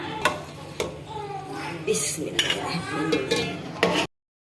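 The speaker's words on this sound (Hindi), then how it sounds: "और ये बस तैयार है, इसको डिश आउट कर रहे हैं हम दम गोश्त को" Serving spoon scrapes and clinks against a pot and dish while dum gosht is dished out, several sharp metallic knocks spaced through soft scooping and stirring sounds, close by, ending abruptly.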